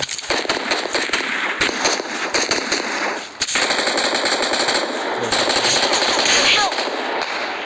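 Sustained automatic gunfire from the PUBG Mobile battle royale game crackles loudly in rapid bursts, with dense rattling shots running almost continuously and a short break near the middle.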